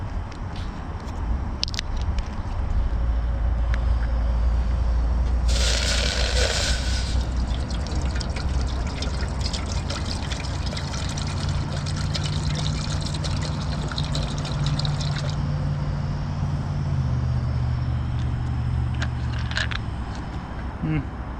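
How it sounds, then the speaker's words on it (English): Water poured into a Copeland cooking pot set on a camp burner at an overnight hammock stealth camp, a steady splashing pour beneath a constant low rumble of nearby highway traffic. "Gonna throw a little water in here."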